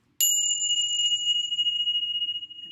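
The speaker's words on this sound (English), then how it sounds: "and start with the bell." A meditation bell struck once, giving a clear bright ring with two pure sustained tones that slowly fade and pulse as it decays, alone in near silence.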